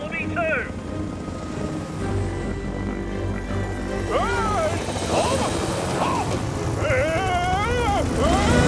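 A cartoon helicopter lifts off from a helipad with a steady rotor drone throughout, while whistling, rising and falling tones and voices sound over it.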